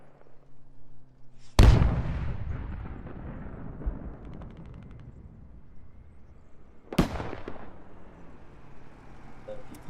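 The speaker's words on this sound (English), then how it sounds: "Lots of explosions going on." Two heavy booms of explosions and artillery fire in the video game Squad, each a sharp loud blast trailing into a long rumbling decay, several seconds apart against quiet background.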